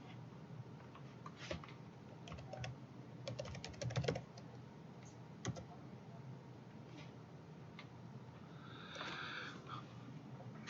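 Someone types a short command on a computer keyboard at a terminal, producing quiet bursts of key clicks with a brief rapid run in the middle and sparse taps around it.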